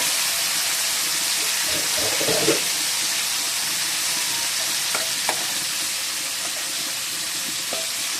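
Raw plantain fries in plenty of oil in a kadai, giving a steady, loud hiss and sizzle throughout, with a brief stirring clatter near the start.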